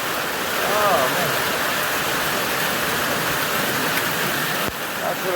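Heavy rain pours steadily as a dense, loud broadband wash throughout, with a brief voice-like sound near the start and a short dip toward the end.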